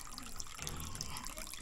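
Water runs steadily from a hose into a duck pool, a constant close rushing and splashing with scattered small drips over it and no pauses.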